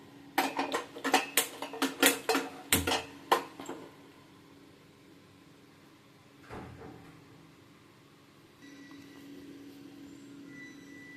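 Metal cookware clanks as a pan is set onto a home kitchen stove before mustard seeds are cooked for pulusu; a quick burst of sharp, close clatters comes first, then a single bump and a quiet hum.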